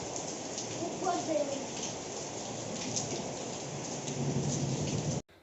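Steady rain falls throughout during a rainy spell in a village setting, a dense continuous hiss of drops on surfaces that holds up to the end and then cuts off, with faint background voices beneath it.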